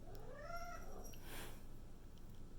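A domestic cat gives a drawn-out, wavering meow, faint and somewhat distant over a steady low background hum, with no talking.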